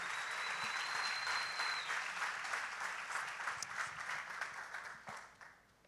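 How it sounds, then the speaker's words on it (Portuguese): A church congregation applauds during a worship service. The fairly soft, even clapping comes with a thin steady tone early on, then dwindles and fades out at the end. "Aplauda o Senhor bem forte."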